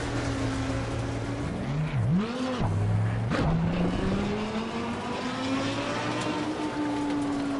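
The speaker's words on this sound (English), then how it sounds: "Faster car coming up behind." Race car engines in Assetto Corsa Competizione hum loudly and steadily. A faster car sweeps past with a quick pitch swoop and a brief revving dip before the steady drone resumes.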